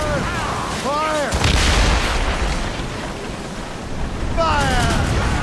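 Naval cannons fire in a ship battle in Assassin's Creed Rogue, booming shots over wind and ocean noise, with crew voices shouting between volleys.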